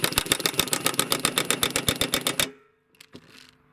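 A Milwaukee M18 FUEL high-torque 1/2-inch impact wrench on setting 1 hammers a nut with a fast, loud, even rattle for about two and a half seconds, then stops, followed by a few faint clunks.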